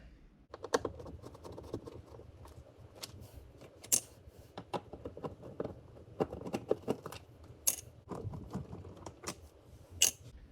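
Screws being removed from the center console of a Toyota Supra MKIV, heard as a string of small, close clicks and ticks of tool and plastic, irregular and sharp, with no talk over them.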